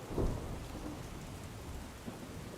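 Heavy downpour during a cloudburst over a Gujarat village, with a low rumble of thunder near the start and steady dense rain hiss throughout, no voices.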